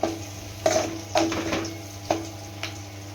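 Onions sauté in a pan with curry leaves and chili powder: a soft, steady sizzle broken by several sharp spoon scrapes and clinks against the pan as the mixture is stirred.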